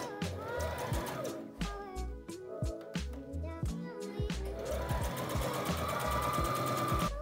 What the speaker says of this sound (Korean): 원단의 겉과 겉을 맞대어 1cm 봉제합니다.